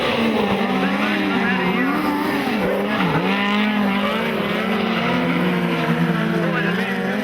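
Speedcars racing at night at Maryborough Speedway in Queensland, a loud sustained howl of engines with pitch swells through the turns, under continuous race commentary.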